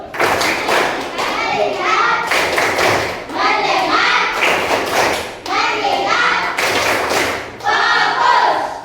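A class of children does a rhythmic focus clap routine, with bursts of group clapping and thumps alternating with children's chanting voices in a regular, lively rhythm, close and loud.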